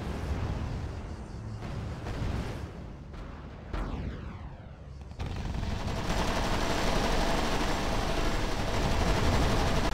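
Dense, continuous bursts of gunfire and explosions from the strategy game R.U.S.E. in a 2v2 multiplayer match fill the whole stretch, loud and chaotic with no pauses.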